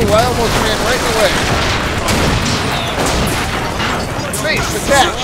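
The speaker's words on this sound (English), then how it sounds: "where are you shooting at me from?" Sustained gunfire in the video game BioShock Infinite aboard an airship, loud and dense with bursts of shots and booms throughout, under a player talking.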